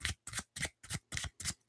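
A deck of tarot cards is riffled and shuffled in six quick, evenly spaced bursts, crisp and close, with no talking.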